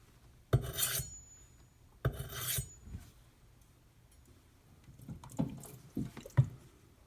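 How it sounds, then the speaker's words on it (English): A thin Karaku bunka knife of Aogami #1 steel is drawn across a wet 1K whetstone, giving several distinct rasping strokes in separate bursts, close and fairly loud between quiet pauses. "I'm only going to start with the 1K stone, nothing coarser"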